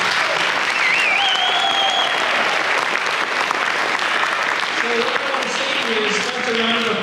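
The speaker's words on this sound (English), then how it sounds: "Round of applause for yourselves" A large audience claps continuously in a hall, a dense, even wall of applause that holds steady throughout, with faint whoops and voices rising through it.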